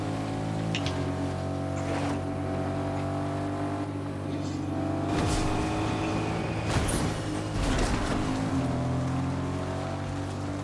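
A car engine drones continuously as the vehicle drives through a battle royale video game, the pitch rising and falling with acceleration and a few sharp bumps and knocks along the way.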